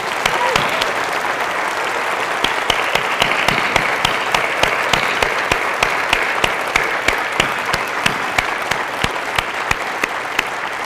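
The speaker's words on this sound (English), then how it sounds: "I think she deserves a big round of applause." Sustained audience applause at a Clojure programming conference talk, dense steady clapping from a large crowd filling the room, moderately loud and continuous throughout with no talk over it.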